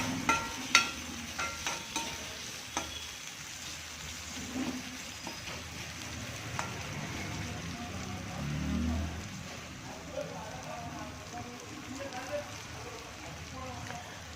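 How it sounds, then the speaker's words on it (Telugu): Ginger garlic paste frying in a pan while a spoon stirs it, with a soft, steady sizzle and occasional scraping knocks near the start, fairly quiet and continuous, no talking over it. "ఈ పచ్చిని వాసన పోయే వరకు మనం తిప్పుకోవాలన్నమాట."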